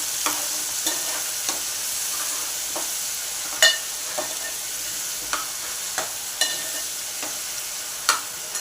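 A masala paste with tomato and curry leaves sautés in a pan for a spicy fish curry: a continuous close sizzle broken by regular spatula scrapes and taps, with no voices.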